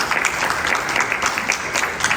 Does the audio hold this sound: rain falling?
no